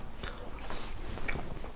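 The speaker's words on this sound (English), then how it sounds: "as I munch on this" Close, crunchy bites and wet chewing of a white bean and spinach sandwich spread, a vegan sandwich, with a few sharp crisp clicks over steady mouth noise and no talking.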